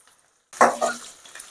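Spices for tempering a moringa-leaf curry with sesame flour sizzle in hot oil, starting abruptly after a half-second of silence and continuing as a moderate, crackling fry with some stirring.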